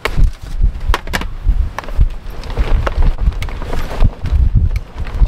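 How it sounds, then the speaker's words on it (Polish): Strong wind buffets the microphone beside a carp fishing lake, making a continuous rough rumble with uneven gusts and thumps and no talking. "bo mamy bardzo duży wiatr"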